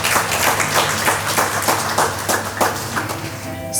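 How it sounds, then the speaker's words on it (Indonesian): Guests applaud the newlyweds at a wedding just after they are declared husband and wife. Close, brisk clapping from a small crowd carries on steadily for a few seconds over faint background music. "Mari kita beri tepuk tangan untuk mereka berdua."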